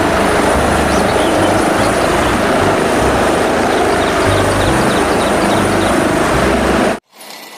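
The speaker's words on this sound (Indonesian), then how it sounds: "Ini ada helikopter berwarna merah putih" A red and white toy helicopter gives off a loud, steady, whirring rotor-like drone that holds for about seven seconds before cutting off abruptly, with no talking over it.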